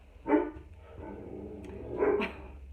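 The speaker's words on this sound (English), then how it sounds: "oh, there's my dogs" Dogs bark in a room where makeup is being applied, two short bursts of barking about two seconds apart, fairly close and alone with no talk over them.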